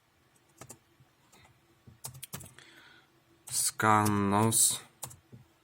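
Scattered keystrokes on a computer keyboard as a command is typed, with sparse clicks spread through the clip and a short burst of speech in the middle.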